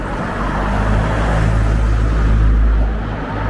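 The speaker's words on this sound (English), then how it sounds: "There's plenty of cars about this morning" Road traffic on a Sunday morning near a pub in a Lancashire town, a car rumbling by close with a low engine drone that swells and then fades as it passes.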